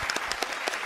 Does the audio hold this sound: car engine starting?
no